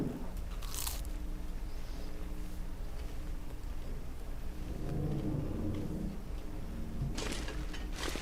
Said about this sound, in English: Give you guys some crunchy pie ASMR.